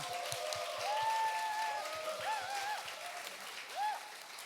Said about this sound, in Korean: 박수로 환영하고 축복합시다